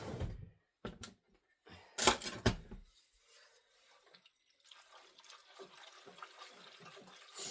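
Soup poured into a pan in a home kitchen while making a 1970s-style tuna dish: a few loud splashy bursts near the start, then a quieter, steady liquid trickle and sizzle that runs to the end.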